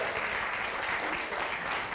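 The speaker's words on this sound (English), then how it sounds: "Everybody give him a round of applause." A crowd applauds for a contestant at a college fraternity game-show event, brief continuous clapping from many people, dense and steady without talk.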